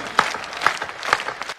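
A Hindi poetry recital audience claps in short bursts, sharp hand claps swelling and fading several times in quick succession, close and lively with no talk over them.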